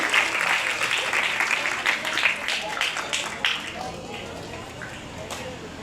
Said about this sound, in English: Let's offer a resounding round of applause, please.